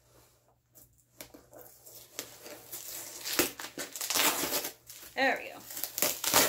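Packing tape is picked at and torn while a cardboard UltraSaber box is opened, with crinkling, scraping and ripping bursts that grow louder toward the end, as a voice speaks briefly.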